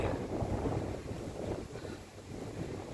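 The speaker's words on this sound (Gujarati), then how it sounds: "પવન પણ ખૂબ જ સરસ રીતે છે તો ધજાઓ પણ ખૂબ જ સારી રીતે લહેરાય" Outdoor wind gusts buffet the microphone in a steady low rushing roar that swells and eases, with no voices, as flags wave in the breeze.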